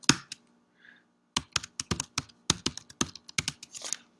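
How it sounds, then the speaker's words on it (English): Keystrokes on a computer keyboard while entering a shell command, a close, fairly loud run of irregular clicks with brief pauses between bursts and no talking. "Sorry if those keystrokes are loud."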